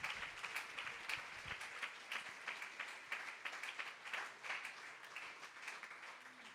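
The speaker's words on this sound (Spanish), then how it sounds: "Denle un aplauso más fuerte al Señor en la mañana." Church congregation clapping during a morning service, a dense run of many hands applauding continuously for several seconds, heard at a distance and fairly faint.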